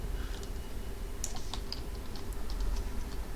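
Computer keyboard typing with scattered key clicks at a steady moderate level over a constant low hum, with no voices present.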